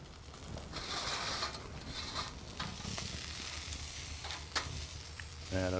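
A Wagyu chuck-eye steak sears on a grill over a travel kettle, giving a soft steady sizzle with faint clicks and scrapes, fairly quiet throughout.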